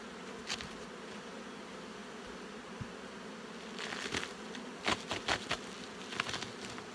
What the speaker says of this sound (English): These bees are actively working the top box here.